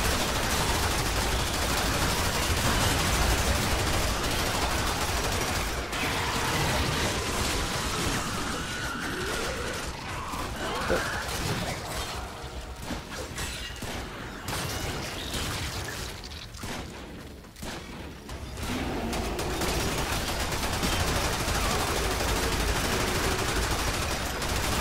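Gunfire from the video game Warframe rattles in dense, continuous bursts with clattering mechanical effects, loud throughout and thinning briefly in the middle.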